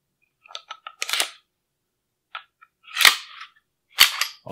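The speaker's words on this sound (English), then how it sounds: "Insert your recoil spring." Recoil spring fitted into a Beretta APX Tactical pistol, a handful of crisp metallic clicks and snaps separated by silence, close and loud with no talking.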